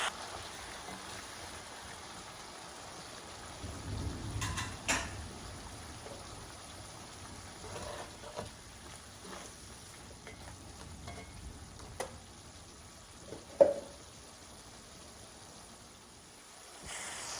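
Red wine reducing over softened vegetables in a pan as a sirloin tip braise gets underway, giving a steady, quiet sizzle and bubbling with a few brief stirring scrapes and clinks, and no talking.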